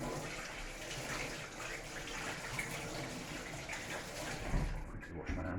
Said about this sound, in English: Quickly wash my hands